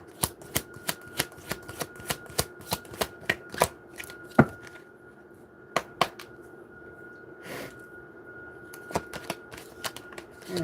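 Tarot cards shuffled by hand in a quiet room, a run of sharp crisp riffling clicks and slaps, steady at first, then sparser bursts with pauses between them.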